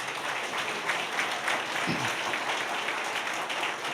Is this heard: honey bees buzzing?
no